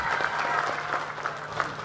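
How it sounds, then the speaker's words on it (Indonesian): Audience applause at a political speech held at an Islamic boarding school in Ciamis, a steady crowd of clapping hands lasting about two seconds with no speech over it. "Tepuk tangan untuk beliau."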